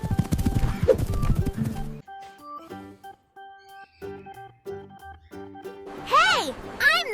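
A toy horse plays a whinny and galloping clip-clop of hooves over cheerful music, the neigh rising loud near the end after a burst of busy sound at the start.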